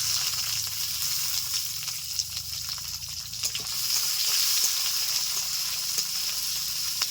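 Onions hit hot oil in a pan and sizzle in a loud, continuous hiss with scattered pops and crackles, heard up close with no talking.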